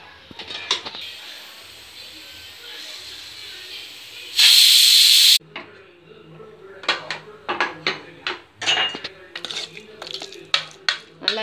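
A pressure cooker lets out a loud, sustained steam hiss lasting about a second while cooking kavuni black rice, followed by a string of metallic clinks and clatters of utensils.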